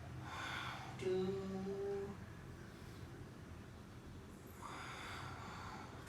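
Exercise instructor breathing during a seated twist exercise, a soft nasal inhale followed by a longer, faint exhale, close and quiet with no talking.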